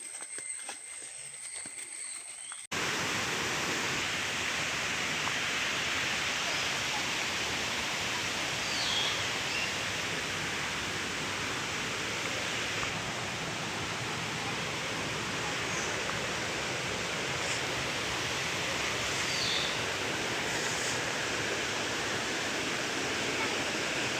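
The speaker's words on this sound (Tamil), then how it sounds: "தண்ணி போய்கிட்டு இருக்குல்ல அமைதியா." Water rushes steadily at a waterfall in a tropical botanic garden in Trivandrum, a loud, even, broadband roar that carries on without a break, with no talking.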